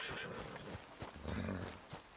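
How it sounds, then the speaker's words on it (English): A spooked horse in the Western video game Red Dead Redemption 2 snorts and whinnies in short bursts over hoof clatter, set against steady game ambience and fairly close. "What's got this horse spook"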